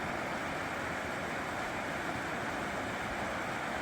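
The Tye River flows beneath a bridge as a faint, steady broadband rush with no variation and no voices throughout.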